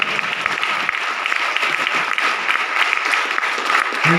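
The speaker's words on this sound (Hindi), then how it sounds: "मैं चाहूंगा आप लोगों से एक जोरदार तालियां बजाएं" An audience claps loudly and continuously for a speaker at a motivational talk, a thick, even burst of applause with faint crowd murmur beneath it.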